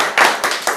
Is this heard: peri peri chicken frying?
no